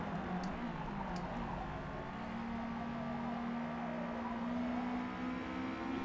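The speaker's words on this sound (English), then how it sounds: "You can probably hear my car a million miles away." A race car engine in Forza Motorsport holds a steady, sustained drone with a slowly shifting pitch, constant and moderately loud, with no talking over it.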